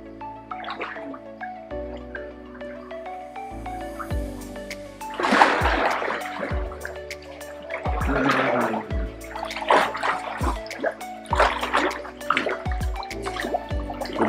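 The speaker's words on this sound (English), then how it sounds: "It's time to finally jump in." Water splashes and drips in a private outdoor pool as people jump in, with irregular bursts of sloshing and splattering at close range over quiet moments.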